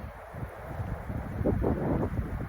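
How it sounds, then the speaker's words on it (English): Wind rushes through Ponderosa pine trees in a soft, steady hiss with gentle surges, swelling slightly louder toward the end, with no voices. "the wind moving through Ponderosa pine trees always sounds like the most ancient wind"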